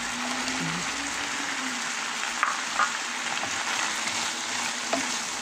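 Bitter gourd frying with seasoned ground beef in a pan: a steady, close sizzle of hot oil with faint stirring clicks and no voices.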